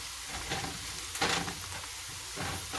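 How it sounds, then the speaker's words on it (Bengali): Onions frying in oil until light brown: a steady, moderate hiss of sizzling with a brief stir scrape, continuous and close throughout. "আমার পেঁয়াজটা হালকা বাদামি হয়ে গেছে।"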